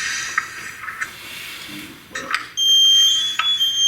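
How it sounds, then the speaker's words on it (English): A firefighter's motion alarm sounds, first as intermittent high chirps over steady hiss, then a loud sustained high-pitched tone for the last second or so. "That noise, when that goes off, that means we haven't moved in a little while."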